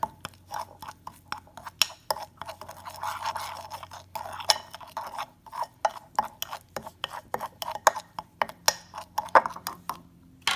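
A spoon scrapes and taps in a bowl while lime juice is mixed into a tandoori fish marinade, a close series of irregular rubbing strokes and sharp clicks with brief pauses.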